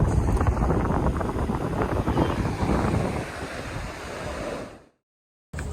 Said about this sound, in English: We're just going to enjoy the crashing of the waves